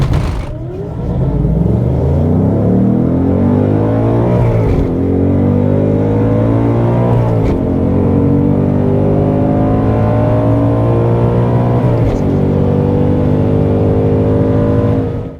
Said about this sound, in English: This time just keep the accelerator flat to the floor and let the no-lift shift do the work.